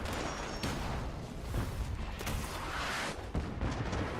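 Artillery fire in Fallout 76 pounds near a player camp as a series of heavy, irregular booms and thuds under a rumbling background.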